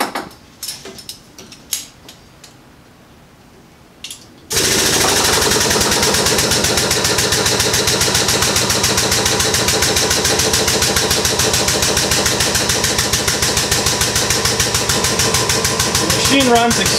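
A RogueFab Model 600 xHD bender working 2.0 solid steel bar starts up after a few quiet clicks and handling noises, then settles into a loud, steady mechanical hum and drone that runs without pause, up close.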